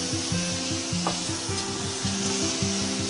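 Kimpira vegetables with sugar simmering in a pan, a continuous dense sizzle and bubbling hiss with a steady rhythmic rubbing or scraping pattern running through it, close and fairly loud.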